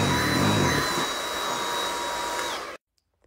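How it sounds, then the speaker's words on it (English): A vacuum cleaner runs loudly on a Ruggable washable rug, a steady motor whine with a high tonal hum that holds for nearly three seconds before cutting off abruptly into silence. "It took me a long time to figure out the best way to vacuum the Ruggable"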